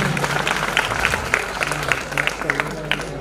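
Crowd applause at a state-level maths olympiad prize ceremony, hearty hand clapping for a school team over a steady low hum, with sharp individual claps standing out.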